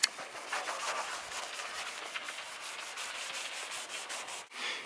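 Continuous hand sanding on an RV window installation, a steady raspy scraping with rhythmic back-and-forth strokes, close and fairly loud, ending with a brief pause.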